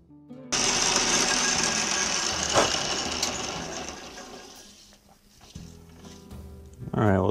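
An Atlas Craftsman wood lathe cuts wood using its compound slide, giving a steady, close, rough scraping and chattering hiss that eases off near the end before a short bump.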